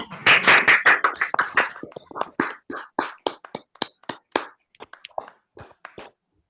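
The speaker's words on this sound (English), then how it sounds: "I want this round of claps" Scattered claps from an online audience, unmuted participants clapping unevenly for a few seconds, dense at first then thinning to separate single claps before fading out.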